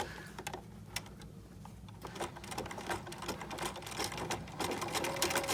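A sewing machine stitches through fabric for a face mask, a close, rapid mechanical clatter with short pauses and restarts, steady throughout with no talking.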